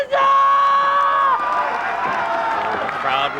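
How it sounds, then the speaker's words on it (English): Wrestling crowd at a 1997 FMW deathmatch event, a loud burst of cheering and high shrill shouts that swells quickly, then settles into a sustained roar with scattered whoops. "crowd responds to her cheer."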